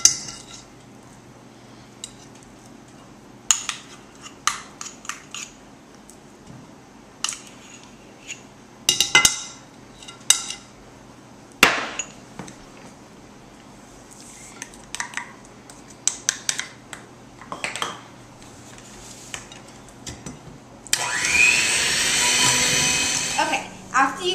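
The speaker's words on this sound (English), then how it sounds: "now we're going to cream together 2/3 of a cup of shortening and 1 1/4 cup of sugar" Shortening and sugar are creamed together in a mixing bowl: scattered clinks and clatter of utensils and dishes, then a steady, loud whirring of a mixer near the end.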